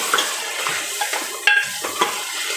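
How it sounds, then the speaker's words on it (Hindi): Red chilli powder and coriander powder roast in a pan for a cauliflower, spinach and mutton curry, with a soft frying hiss broken by several quick scrapes and light taps of a spoon, close by and without speech. "मसालों को अच्छे से भून लेंगे।"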